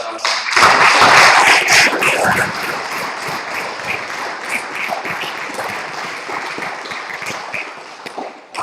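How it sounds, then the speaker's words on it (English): School audience at a debate event applauding the debate team, a loud burst of clapping that swells early, then settles into thinner, scattered claps before fading. "Can I just have one more massive round of applause just for these guys?"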